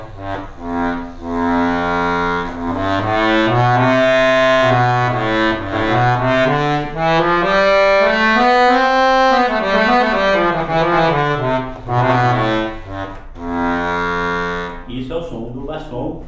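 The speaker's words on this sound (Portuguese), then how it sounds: "Isso é o som do bassom." An accordion on its bassoon register plays sustained reedy notes in a slow melody that climbs and falls, then closes with a few short staccato notes.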